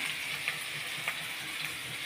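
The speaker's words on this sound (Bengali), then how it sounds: "তো এবার আমি পটলগুলো ভাজ" Pointed gourd slices fry in hot oil, making a steady soft sizzle with a few faint crackles and pops, close and moderately quiet, with no talking.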